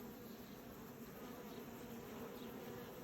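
Honeybees hum in a dense, steady drone around an opened hive holding a queen and frames of brood, a faint, unbroken buzz with no voices.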